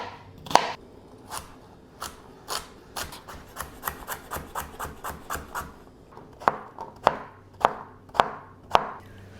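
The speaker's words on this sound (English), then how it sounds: "Chop the vegetables in similar size pieces." Vegetables for minestrone soup are chopped with a knife on a board, giving a run of sharp, close taps, quick and regular at first, then a pause and a few spaced, heavier chops, with no talking.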